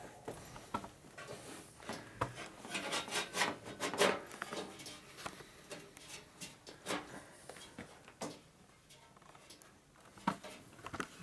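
A hand file rasps against a steel fender brace from a 1942 Harley-Davidson WLA 45ci motorcycle during a chassis rebuild, with repeated uneven scraping strokes close by at moderate volume and no talking.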